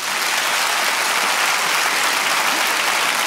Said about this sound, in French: on fait un petit sondage par applaudissement.